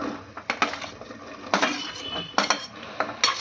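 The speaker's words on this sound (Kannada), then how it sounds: "ಈಗ ನೋಡ್ರಿ ಎಲ್ಲ ತರಕಾರಿನೂ ಒಟ್ಟಿಗೆ ಹಾಕ್ತಿದ್ದೀನಿ ನಾನು" Vegetables and peas tumble into a metal pot for a pulao, setting off a series of clattering metallic clinks and scrapes, several sharp bursts spread unevenly over a few seconds, close up, with no talk.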